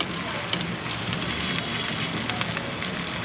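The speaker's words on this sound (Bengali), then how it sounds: "তারপর একটুখানি মিডিয়াম হিটে ভেজে নেব" Onions and slit green chillies sizzle over medium heat in a pan. A continuous soft crackle holds steady with a few sharper pops, and nobody talks.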